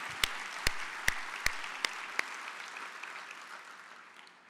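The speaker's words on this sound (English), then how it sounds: "let's give another round of applause for the outstanding work Camp Corral is doing for military children." Audience applause at a joint opening session of an organization's meeting, a run of sharp claps at first that settles into a steady, moderately loud wash of clapping from a crowd in a large room.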